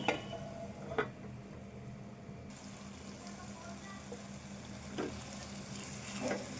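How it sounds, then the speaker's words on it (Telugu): Ridge gourd and meal maker curry simmers in a pan in a home Telangana kitchen, giving a low, steady bubbling sizzle with a few soft clinks of a utensil against the pan and no talking. "ఈ కర్రీ అయితే కొద్దిసేపు అయితే ఉడకనిద్దాము"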